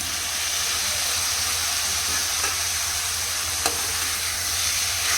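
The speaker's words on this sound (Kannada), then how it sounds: "ಟೊಮೆಟೊ ಸ್ವಲ್ಪ ಸಾಫ್ಟ್ ಆಗೋವರೆಗೂ ಚೆನ್ನಾಗಿ ಫ್ರೈ ಮಾಡ್ಕೊಳ್ಳೋಣ" Tomatoes frying in a pan with onion and ginger-garlic paste give off a steady, close sizzle and hiss, with a couple of faint stirring scrapes, and no voices over it.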